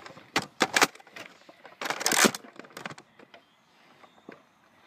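A Nerf blaster magazine being reloaded outdoors, with close plastic clicks and rattling snaps in quick bursts that trail off into quieter handling.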